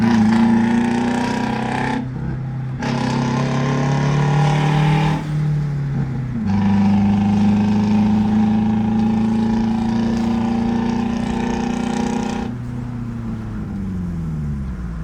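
A tractor engine on the way to the Wonji sugar factory gives a loud, steady, close harmonic drone with shifting pitch, dipping briefly around a few moments and settling into a lower hum at the end.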